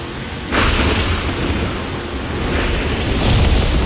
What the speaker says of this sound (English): That lightning was way too close.